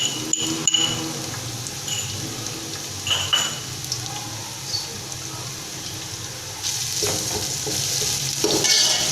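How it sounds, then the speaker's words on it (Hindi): A steady sizzle of coarsely ground ginger-garlic paste frying in a hot pan for chicken biryani, with occasional stirring scrapes and clinks, close and continuous throughout. "थोड़ा सा भूनेंगे लहसुन अदरक को"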